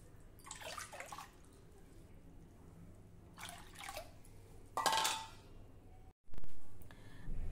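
Measured bowls of water, four to one bowl of jowar, are poured into a cooking pot in three short splashing bursts, followed by a sharp clank of the vessel.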